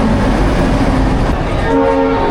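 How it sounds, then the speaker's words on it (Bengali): The Chambal Express pulls into Howrah station with a loud, continuous rumble of rolling wagons and a sustained horn tone rising near the end, close by. "এই সেই মথুরা চম্বল এক্সপ্রেস ঢুকে যাচ্ছে হাওড়া স্টেশনে"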